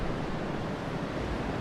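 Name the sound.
wind blowing outside in video game Zelda: Twilight Princess HD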